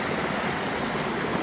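Creek at Buck Gulch running full after rain, a steady, close rush of flowing water that holds an even level throughout.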